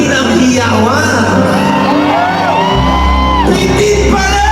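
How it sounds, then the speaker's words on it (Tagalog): Rally crowd at a campaign miting de avance in Liwasang Bonifacio shouting and whooping together, a loud continuous roar of many voices with no pause. Low music plays beneath the crowd. "Parang bitin ang hiyawan."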